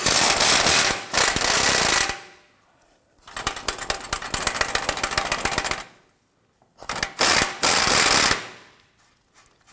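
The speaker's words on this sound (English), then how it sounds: "And we are going to use our 18mm socket here." Loud, close ratchet clicks come in three rapid bursts separated by short pauses as an 18mm socket turns a control arm bolt on a 2003-2014 Volvo XC90 front suspension.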